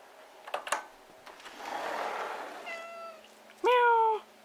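A cat meows several times at a holiday weekend gathering, first softer rising calls and then one loud, drawn-out meow close by, with light household clatter and no clear speech.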